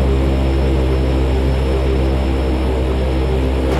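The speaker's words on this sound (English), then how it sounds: "this could certainly be an interesting takeoff" A Kodiak propeller plane takes off in the X-Plane 11 flight simulator, giving a loud, steady engine and propeller drone with a strong low hum that holds unchanged throughout.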